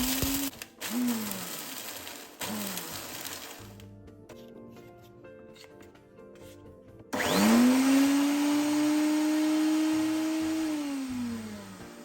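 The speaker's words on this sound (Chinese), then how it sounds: "包装青豆适量倒入搅拌器，搅成粉状。" A kitchen blender grinds packaged green peas into powder. The motor whines in short bursts with pauses, then runs loud and steady through the end.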